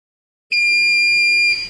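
A single loud, steady electronic beep with a pure high tone, lasting about one second after brief silence, from a KESS3 Dynodrive test signalling a deceleration to 1400 rpm.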